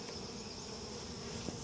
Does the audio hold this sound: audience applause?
no